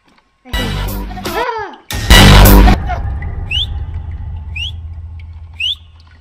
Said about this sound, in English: we have to whistle